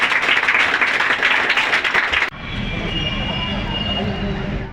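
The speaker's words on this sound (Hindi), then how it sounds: "एक बार जोरदार तालियां।" Audience applause at a ceremony honouring high-scoring matriculation and intermediate students, dense clapping for about two seconds before cutting abruptly to a steady low rumble.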